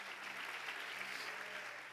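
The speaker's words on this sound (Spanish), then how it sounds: "¿Cuántos pueden dar un aplauso fuerte al Señor?" Congregation applauding during a church sermon, steady continuous clapping heard fairly faint and alone throughout.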